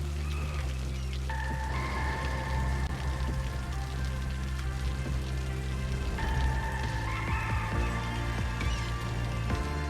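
Steady rain falling in the Cities Skylines city-building game, a dense continuous patter heard alone at an even level throughout, with a faint tonal game sound drifting in the background.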